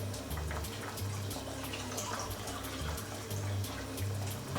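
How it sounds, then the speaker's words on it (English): Filtered water splashes and trickles as it is poured into dough mixed by hand, a steady running pour close up with brief bursts of stronger flow. "I'll add some filtered water to mine,"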